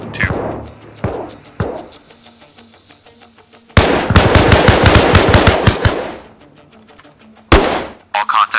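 Sustained automatic rifle and machine-gun fire in the military shooter Arma Reforger, with short bursts early on, then a dense, loud stretch of rapid shots, a final heavy blast, and voices talking between bursts.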